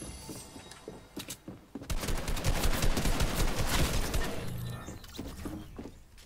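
Gunfire in the battle-royale game Fortnite: a few spaced shots, then a dense sustained burst of rapid fire with some shattering impacts, fading into scattered shots.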